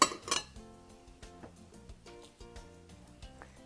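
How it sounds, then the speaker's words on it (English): A spoon clinks against the pot of a rice cooker holding cooked barley, with a sharp knock at the start followed by light, scattered scraping and tapping as the grain is stirred. "You can stir it."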